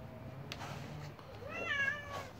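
A cat meows softly at feeding time, with a short rising mew followed by a clearer drawn-out meow, faint against a quiet indoor background.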